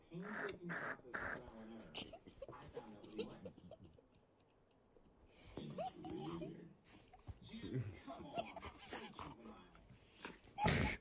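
A dog whimpers and whines in short, anxious bursts near a fire, close and fairly quiet, interleaved with people talking throughout.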